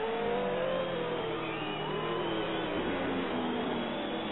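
Racing cars on the circuit during an RSA Toprace round, a steady engine drone with sustained revving throughout, continuous and fairly distant, no talk.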